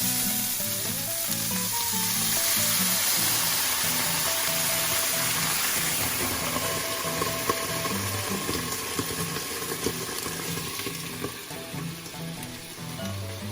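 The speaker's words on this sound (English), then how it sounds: "I love this part because I love that sizzle sound, and then it steams up real good." Pork chops in a pan with mushrooms sizzle hard and steam loudly after water is added, a dense continuous hiss and crackle filling the foreground with no talk over it.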